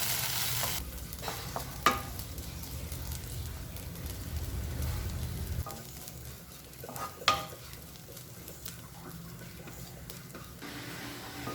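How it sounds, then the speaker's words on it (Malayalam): Okra frying in a pan for a Kerala vendakka mezhukkupuratti, a steady close sizzle with occasional sharp scrapes and clinks of stirring. "ഇപ്പം എന്താ, നമ്മുടെ വെണ്ടയ്ക്ക ചെറുതായിട്ട് മുരിഞ്ഞ് വരുന്നുണ്ട്"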